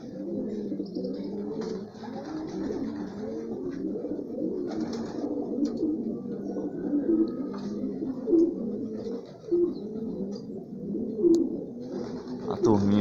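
Homing pigeons at a loft coo steadily in overlapping low, throaty calls, a close and continuous flock murmur with a few brighter chirps.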